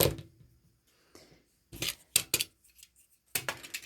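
Yarn being cut with a box knife while making a pom pom for a hat, a few short sharp clicks and scraping snips in separate bursts, close and distinct against near silence.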